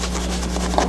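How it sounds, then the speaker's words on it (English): A balloon rubbed to charge it with static makes a steady scratchy rasp of friction, close and fairly loud over a constant low hum, with no speech. "So now I'm going to rub the balloon and charge it up with lots of negative charges."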